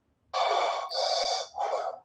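A voice imitates forced breathing through a ventilation mask with three long, rasping, Darth Vader–like breaths, close and loud, with short pauses between them.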